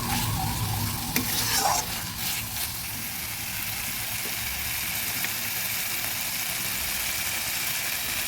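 Tomato frying with spices in a pan for a puti fish dish with onion shoots, a steady close sizzle with a few stirring scrapes near the start.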